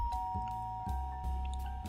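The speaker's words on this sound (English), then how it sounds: "the doorbell rings again" A doorbell chiming in the video game Cold Hearts, a sustained electronic tone ringing under a soft, pulsing background hum, with a few faint knocks or clicks.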